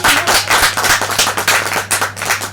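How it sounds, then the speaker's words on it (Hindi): An audience claps loudly and continuously for a couple of seconds, dense overlapping handclaps with an even rhythm, close and strong throughout. "एक ज़ोरदार हम तालियां बजाते हैं"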